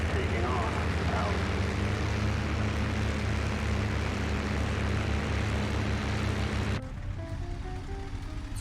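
A P-51B Mustang's propeller engine drones loud and steady during takeoff in IL-2 Sturmovik, a continuous low roar that shifts pitch near the end as the aircraft climbs away.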